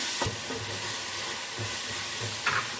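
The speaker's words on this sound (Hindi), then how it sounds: "कीमे का कलर भी चेंज हो जाए तब तक हम कीमे को फ्राई कर लेते हैं।" Minced mutton keema fries in a karahi over normal heat, giving a steady sizzle with repeated scraping stirs of a spoon against the pan, and no voices.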